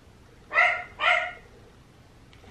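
A dog barks twice, close and fairly loud, in a quiet room.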